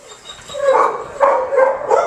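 Dog barking and yipping close by, several short sharp excited barks with a brief whimpering edge, coming in quick bursts.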